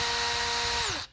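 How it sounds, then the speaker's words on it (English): Power driver whirring briefly as it backs out Phillips head screws from an old-style counter on a Scotty 2106 High Performance downrigger, a steady close whine that winds down at the end. "We're going to pop these two Phillips head screws off."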